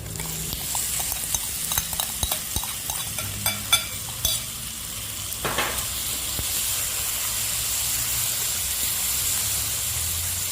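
Intestines stir-frying in a hot pan for a Vietnamese turmeric noodle dish with garlic chives, a steady close sizzle and hiss with scattered clinks and scraping stir strokes, ending in continuous frying.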